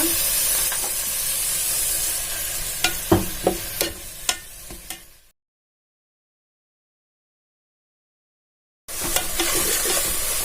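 Sizzling and hissing of tomatoes frying in a pan with several clinking stirs, then a sudden gap of silence before the frying noise resumes.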